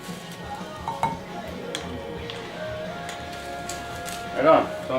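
Spoon stirring a paprika-based dry rub bacon cure in a bowl, light ticking scrapes and clinks against the dish under steady talking.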